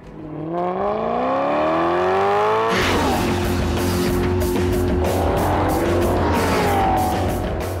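Car in race mode with the exhaust turned fully up, a loud engine climbing through revs, then a harsh roar with tire squeal and crackling exhaust as it passes and accelerates.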